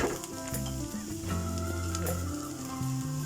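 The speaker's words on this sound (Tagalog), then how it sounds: "Balik natin ang ating mga na-pan-fry na chicken" Pan-fried chicken pieces go back into a hot pan for chicken afritada and set off a steady frying sizzle, with stirring and clattering as they are mixed, all heard clearly without talk.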